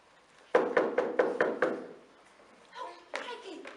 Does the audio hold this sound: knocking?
yes